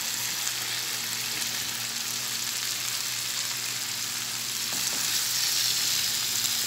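Sliced carrots and bell pepper sizzle in a pan over a medium flame for vegetable spaghetti with chicken. The frying holds a steady, close crackle, with a brief stirring clink partway through.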